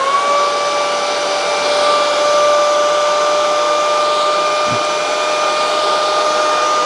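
A Bissell Crosswave X7 cordless wet dry vacuum runs steadily up close, a loud constant motor whine with a high pitched tonal hum and no voices.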